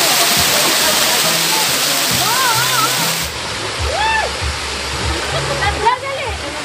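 A waterfall at Arayat National Park in Pampanga, Philippines, pours steadily and loudly, a continuous broadband rush of falling water with people's voices rising briefly over it.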